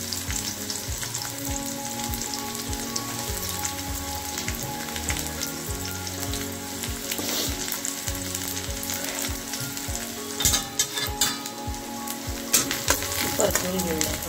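Garlic and onion frying in a pan make a dense, steady sizzle with occasional stirring scrapes and louder crackles toward the end, close and continuous, with no voices.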